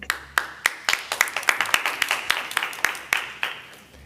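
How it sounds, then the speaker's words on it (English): Scattered audience clapping at an Iowa City city council meeting: a few pairs of hands giving spaced, uneven claps, fairly close and alone with no talk. "I'm going to have to let you all get away with clapping"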